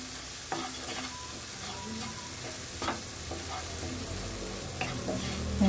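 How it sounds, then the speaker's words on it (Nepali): Masala spices sizzle steadily in a pan for a spicy chicken feet dish, with repeated scraping and stirring clicks from a spatula throughout. "मजाले अलिक मसलाले भुट्नुपर्छ"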